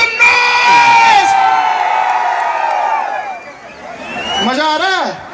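A large outdoor rally crowd at a political event featuring a rapper cheers, whoops and shouts loudly and continuously, with a fresh burst of rising yells near the end.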